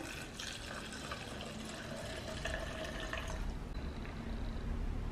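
Steady liquid pouring of 70% alcohol through a funnel into a plastic spray bottle, a continuous close trickle and gurgle lasting several seconds with no talk.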